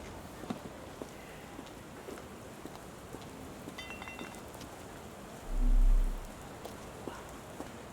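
Rain falls in the Sherlock Holmes The Awakened video game, a steady, fairly soft hiss of drops with scattered light taps and a brief low swell near the end.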